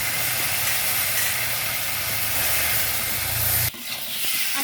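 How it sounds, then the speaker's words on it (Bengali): Pieces of potato and taro fry in hot oil in a kadai, giving a loud, steady sizzling hiss that cuts off abruptly near the end. "এরপরে ভেজে রাখা আলু আর কচুটা ভেজে নেব।"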